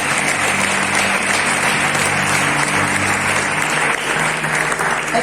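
A church congregation applauds loudly and steadily during a Spanish-language sermon, a thick, unbroken roar of many hands clapping close by for several seconds.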